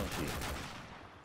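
A Dragunov sniper rifle fires in Modern Warfare Remastered, one loud, close, booming shot that fades into a short echoing tail, heard alone without talk.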